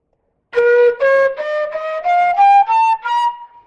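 A NumaPro flute head joint is blown with an airy, breathy tone in a series of short separate notes, each one a little higher than the last, close and loud.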